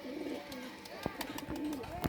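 A pair of crested pigeons coo nearby in low, rolling throaty calls, repeated softly across a short moment with light rustling around them.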